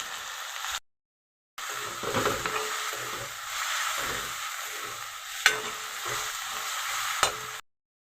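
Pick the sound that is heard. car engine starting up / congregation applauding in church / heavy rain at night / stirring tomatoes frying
stirring tomatoes frying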